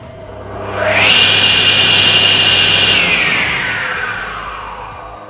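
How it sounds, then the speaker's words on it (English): A SIP Professional cast iron 10-inch table saw motor switches on and whines up to full running speed, then holds a loud, steady high hum for about two seconds before slowly winding down. "Now when you start the saw, the green button should be depressed and held until the saw blade is up to its standard running speed."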